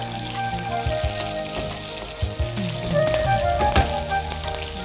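Green chillies and coriander seeds sizzle and crackle steadily in hot oil in a pan, with occasional stirring clatter and louder pops near the end.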